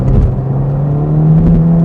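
A Ferrari Roma Spider accelerates hard with a loud, steady engine drone heard from inside the car, a sustained throaty hum with no talk.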